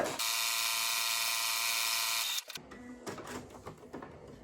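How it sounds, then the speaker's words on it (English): A sewing machine runs steadily for about two seconds while stitching shirt fabric, giving a loud, even mechanical whir up close, then stops and is followed by faint handling clicks and rustles. "make sure you don't back stitch. That's very important. And you just sew."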